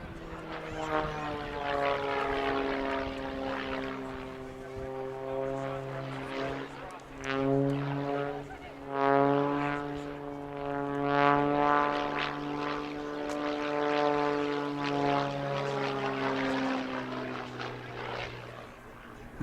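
A Pitts Special S2B aerobatic biplane with a 260 horsepower engine performs an airshow display, its propeller engine droning loudly and steadily with rising and falling pitch as it maneuvers, while a commentator talks over it.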